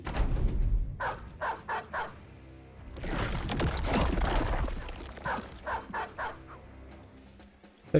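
A dog in a video game gives a run of short, evenly spaced barks, then a burst of noisy commotion, then more rhythmic barking.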